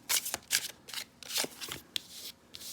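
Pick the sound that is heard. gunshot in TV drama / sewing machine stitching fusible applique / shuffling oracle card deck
shuffling oracle card deck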